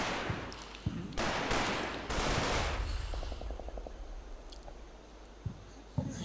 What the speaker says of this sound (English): I'm pretty sure that rifle fire's mine.